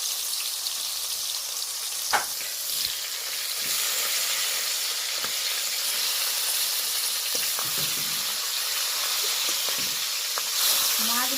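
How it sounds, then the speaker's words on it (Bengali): Pieces of a large shimul tengra fish frying in hot oil, a constant close crackling sizzle with occasional sharper pops and spatters, no voices over it. "মাছগুলো ভেজে নেব"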